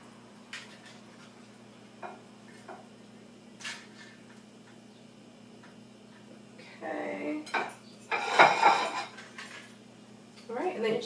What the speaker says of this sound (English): And then you're just going to use your fork and mash it up.